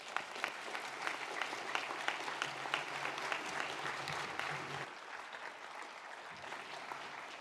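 A large commencement audience applauds newly presented graduates at a university ceremony, a dense wash of clapping that holds steady for several seconds and then softens slightly toward the end, with no voices over it.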